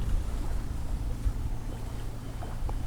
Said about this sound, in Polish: troszeczkę wiaterek wieje tak z przodu nam tutaj